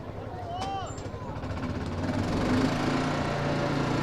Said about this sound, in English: our crowd mic's down on the field and the golf cart keeps driving in front of it